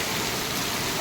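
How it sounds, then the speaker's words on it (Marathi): Heavy rain pours down on a street in Kashi, a dense, steady, even hiss of water with no break through the whole moment. "आता पाऊस खूप जोरदार लागलेला आहे"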